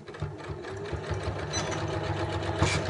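A domestic sewing machine stitches back and forth across the crossover seam of a small fabric tissue pocket holder, a steady close whirring with rhythmic pulsing needle strokes and no talk.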